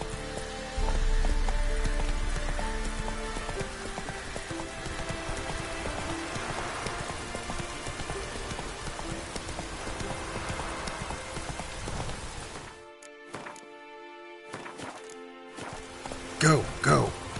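Horse hooves galloping in the video game The Witcher 3, a fast, continuous drumming of hoofbeats blended with rain-like hiss for most of the stretch, then cutting out abruptly near the end, leaving brief scattered sounds.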